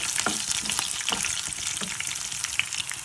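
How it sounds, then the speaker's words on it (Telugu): Coriander seeds and dried chillies frying in oil for a green apple pickle, a close, dense sizzle with scattered crackling pops and no talking. "ఇది వన్ టేబుల్ స్పూన్ ధనియాలు అవి కూడా వేసుకొని వేయించుకోండి"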